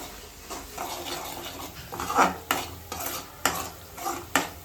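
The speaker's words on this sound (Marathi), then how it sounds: "आता हे देखील आपण छान तेलावरती परतून घेऊया" Masala sautés in oil in a pan while a spatula stirs and scrapes in repeated strokes over a constant close sizzle.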